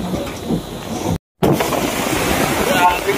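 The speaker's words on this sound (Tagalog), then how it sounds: "Grabe ng alon guys." Large typhoon waves crash against a beach sea wall, a loud continuous surging roar with gusting wind noise on the microphone and a brief dropout midway; a voice talks over it.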